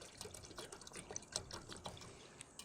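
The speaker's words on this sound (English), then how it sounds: "Go ahead and pour some water." Water poured into a Toaks titanium 650ml pot, heard as a quiet, close trickle and splash with small drips and liquid bursts, with no talking.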